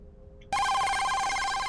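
A telephone rings loud and close, its bright electronic trill bursting in abruptly after a brief quiet hum and continuing steadily to the end.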